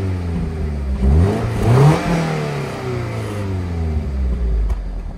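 Subaru BRZ engine revving through its exhaust muffler, rising in pitch with a couple of sharp blips up and back down before dropping to a low, rumbling idle, heard up close.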